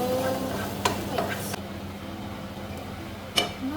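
Ginger garlic paste sizzles softly in a pan while being stirred for a chicken curry, a low steady fry with a few sharp scraping clinks of a spoon against the pan.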